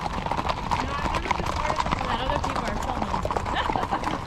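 Horses' hooves clip-clop steadily during a group ride past watching tourists, as tölting horses with riders go by. The dense, rhythmic hoof beats sound close under constant chatter and talk.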